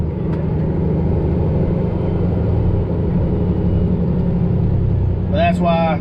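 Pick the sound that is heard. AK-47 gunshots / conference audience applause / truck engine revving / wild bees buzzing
truck engine revving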